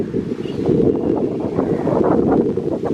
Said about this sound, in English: So beautiful wind, charming wind, you can say.